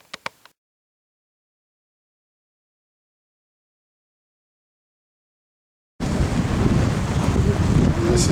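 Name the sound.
strong wind at Dartmouth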